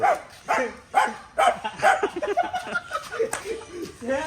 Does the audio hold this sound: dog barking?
yes